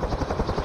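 Rotor thump of a CH-53E Super Stallion heavy-lift helicopter in DCS World, a steady loud pulsing chop with broadband engine roar, close and continuous throughout.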